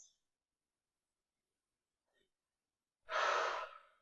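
A single deep, audible breath during a yoga stretch, a soft airy exhale near the end, otherwise near silence.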